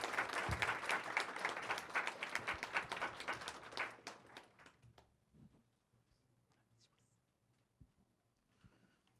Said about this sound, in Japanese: 最後あの拍手で終了にしたいと思います